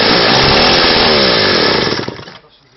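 A new chainsaw running loud and close for about two seconds, revving steadily while cutting, then dropping off as the engine winds down to idle.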